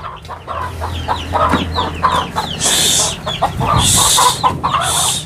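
Chickens cluck repeatedly in a busy farmyard, with a rooster-like call rising loudly near the end, fairly close and continuous.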